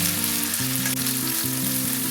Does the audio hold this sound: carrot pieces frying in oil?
yes